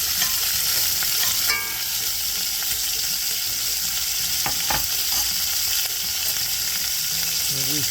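Lamb chop searing in extra virgin olive oil in a hot pan gives a steady, close, loud sizzle, with a few brief clinks and stirring scrapes on top.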